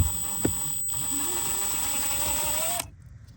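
A ratchet turns out a screw holding the AC blower resistor module in a Honda Accord, giving a steady close mechanical clicking whir for nearly three seconds, with a faint high electrical whine behind, then stopping abruptly.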